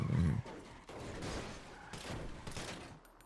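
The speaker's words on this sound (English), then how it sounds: "Yo, who is shooting, bro?" Gunfire in a GTA RP video game: a loud burst at the start, then a continuous stretch of dense, rattling shots, with no voices.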